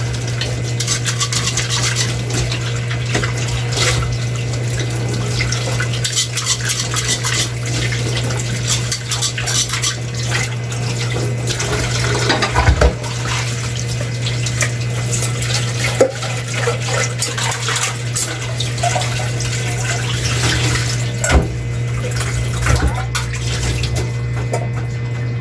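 Tap water runs steadily while rice is washed for cooking, a continuous close splashing stream with no talk.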